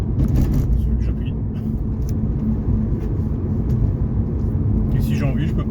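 A Hyundai Coupé V6 FX in fifth gear near 2000 rpm gives a deep, steady engine drone as it accelerates, while someone talks over it throughout.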